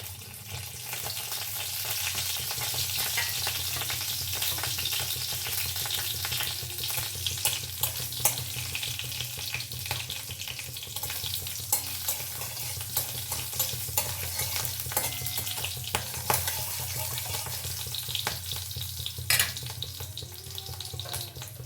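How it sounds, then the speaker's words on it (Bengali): Cumin seeds and a slit green chilli crackle and sizzle in hot oil in a kadai, a close, continuous frying hiss with small pops scattered throughout and nobody speaking. "কড়াতে পরিমাণ মতো তেল দিয়েছি, আর দিচ্ছি এই যে সাদা জিরে আর একটা কাঁচা লঙ্কা চিড় দিয়ে এটা সম্বরা করে দিচ্ছি।"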